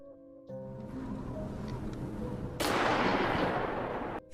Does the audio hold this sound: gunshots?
yes